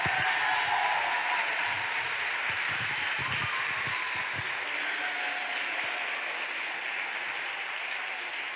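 Sustained applause from an audience at a children's graduation ceremony, a broad steady wash of many hands clapping that holds at an even level for several seconds with no voices on top.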